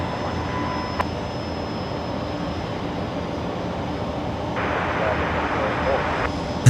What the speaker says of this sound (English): The beautiful A350-900. Taxi holding point Alpha 3.